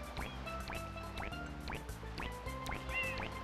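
Quacking from the video game Super Mario Sunshine, a series of about six short evenly spaced squawks over a soft game music bed with dripping, watery sounds.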